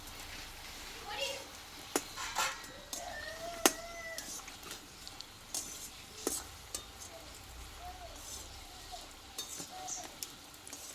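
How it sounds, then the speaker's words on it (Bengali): Kucho nimki snacks deep-fry in oil with a faint, quiet sizzle, punctuated by sharp clicks of a utensil against the pan, while someone talks softly over it. "দেখো কত সুন্দর ফুলছে বন্ধুরা দেখো আর খুব অল্প আছে এটা ভেজে নিতে হবে"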